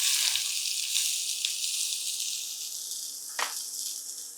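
Mustard seeds, cumin and onions frying in oil for millet rava upma: a steady, close high hiss of sizzling with occasional soft stirring swishes and one brief louder crackle, no talk.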